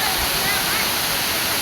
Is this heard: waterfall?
yes